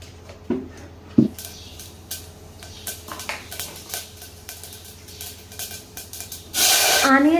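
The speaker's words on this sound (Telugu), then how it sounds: "ఫస్ట్ ఆయిల్ అయితే వేసేసుకుంటున్నా." Oil is added to a pan for a prawn and tomato curry, with a few sharp clinks of a utensil against cookware, then a sudden steady sizzle rising near the end, while a person talks throughout.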